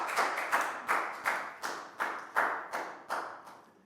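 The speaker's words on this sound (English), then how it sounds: "High five and a big round of applause for Net." Rhythmic classroom clapping for a pupil, about ten evenly spaced claps in a steady beat, moderately close and fairly soft, with no talking.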